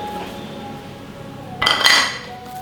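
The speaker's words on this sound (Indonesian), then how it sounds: "Kita aduk kembali." A spoon stirs seasoned ingredients with crushed garlic, salt, bouillon powder and pepper in a bowl, giving a brief burst of scraping metal clinks against the dish, close and moderately loud after a quiet start.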